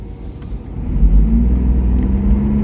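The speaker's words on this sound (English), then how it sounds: "There you heard the engine kick in, so yeah, cool sounds." A BMW i8 Roadster engine revs up and accelerates, a loud close rumble rising and holding steady, with no voices.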